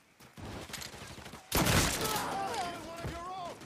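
Gunfire in Mafia III crackles in rapid, loud volleys, with a heavy burst hitting in the middle and game voices shouting over it.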